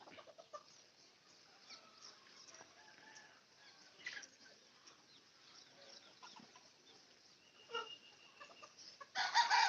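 Free-range native chickens on a poultry farm cluck and call softly at a distance in an open outdoor space, with scattered short bursts and a louder squawk near the end.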